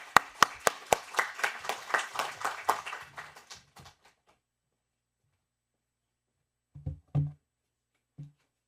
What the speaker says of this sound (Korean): 우리 뜨거운 박수로 우리 전도사님 맞겠습니다.